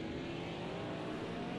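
GT4 race cars circle Spa-Francorchamps in Project Cars 2, their engines forming a steady, droning roar of many cars at once that holds level across the moment, with no one speaking.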